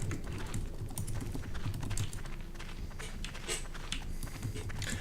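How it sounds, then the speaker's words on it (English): Rapid, steady clatter of keys on a computer keyboard, close and continuous throughout with no talk over it. "Every time I hear you typing, I'm like, oh, is somebody in chat?"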